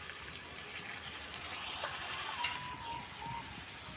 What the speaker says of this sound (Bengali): এখন আমি এখানে সামান্য পরিমাণ পানি দিয়ে দিলাম।